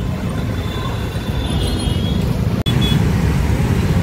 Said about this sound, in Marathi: त्यामुळे लय ट्रॅफिक आहे आज.